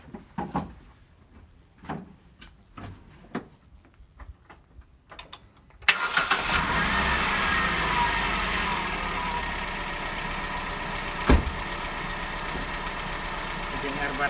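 A car engine cranks and catches on power from a V-Gen 2-in-1 jump starter power bank, then settles into a steady loud idle after a few quiet clicks and light handling noises.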